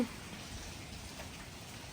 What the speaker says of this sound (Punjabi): ਇੱਧਰ ਵੇਖੋ ਮੀਂਹ ਪਾਣੀ ਪਾਣੀ ਕਰਤਾ